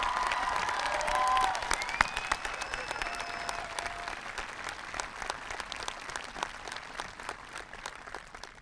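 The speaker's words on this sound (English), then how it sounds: "let's hear another big round of applause for Mr. Bauer." A big crowd at a 2021 high school graduation ceremony applauds steadily, with a brief louder swell early on and some faint tonal tones underneath. The clapping continues evenly, then gradually softens.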